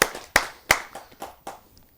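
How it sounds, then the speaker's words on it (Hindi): Hand clapping welcoming a poet at a Hindi kavi sammelan: a handful of sharp, separate claps spaced about a third of a second apart, close and crisp, fading quieter over the last few. "आइए जोरदार तालियों से उनका स्वागत करते हैं।"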